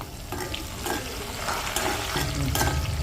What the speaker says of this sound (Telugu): లో ఫ్లేమ్లోనే మనకు ఇదంతా ఫ్రై అవ్వాలి బాగా పచ్చిమిరపకాయలు ఇవన్నీ